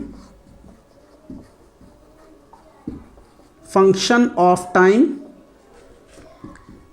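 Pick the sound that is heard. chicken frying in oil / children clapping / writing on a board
writing on a board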